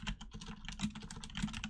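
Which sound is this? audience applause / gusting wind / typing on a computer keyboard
typing on a computer keyboard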